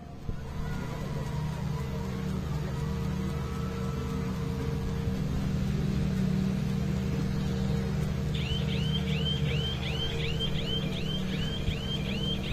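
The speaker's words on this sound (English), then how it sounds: "This noise here, this siren, is to signify it's in EV mode." A wailing siren from a World Rally Championship car at the Safari Rally 2024 ceremonial start in Kenya signals electric EV mode, a rapid repeating warble that enters partway through over steady crowd and engine rumble.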